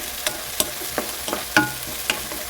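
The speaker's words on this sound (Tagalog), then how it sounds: "So kaya maggisa na lang muna tayo ng sibuyas," Onion, ginger and tomato sizzle in a hot pan for a Filipino dish, a steady close frying hiss broken by several sharp scrapes and clacks of the spatula as it stirs.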